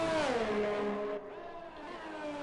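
A Ferrari race car engine in a Formula-style racing game, on the Netherlands circuit, whines at high revs. The pitch bends downward as it shifts, then holds a steady buzzing drone, moderately distant and alone.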